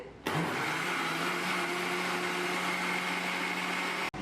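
An electric mixer grinder blending saffron lassi whirs loudly and steadily for a few seconds, starting abruptly and cutting off at the end.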